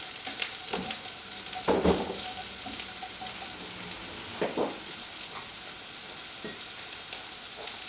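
Ginger stirred and frying in a pan for a Filipino squid dish cooked in coconut milk: a soft, steady sizzle broken by a few louder scraping stirs, fairly quiet and close.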